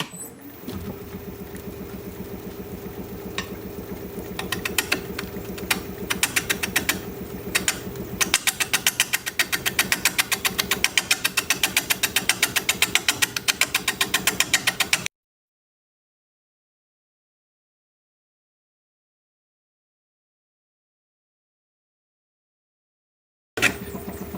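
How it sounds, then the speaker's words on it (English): A wood lathe spins a cherry burl platter blank as a 5/8 inch bowl gouge cuts, giving a steady whirring drone with rapid rhythmic ticking from the irregular burl surface, then a long stretch of silence before the sound briefly returns. "But I'm going to try the 5/8 inch bowl gouge first."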